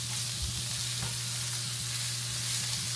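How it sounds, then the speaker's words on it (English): Onions saute in a hot pan until translucent, a loud continuous sizzle and crackle close by with occasional stirring clicks and a low steady hum underneath, no speech. "This has to saute until it's translucent."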